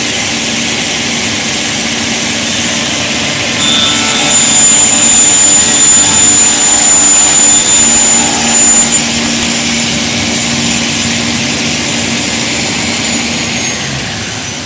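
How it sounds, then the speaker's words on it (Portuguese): A precision panel saw (esquadrejadeira) with a scoring blade and main blade cuts a board, making a loud, steady, high machine whine that holds throughout and swells slightly through the middle of the cut. "Agora sim, riscador e serra principal."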